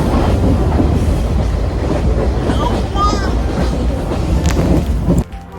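Passenger train running on rails toward Ernakulam, a steady loud broadband rumble with rhythmic clatter and a brief squeal partway through, cutting off abruptly near the end.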